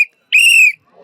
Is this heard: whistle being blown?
yes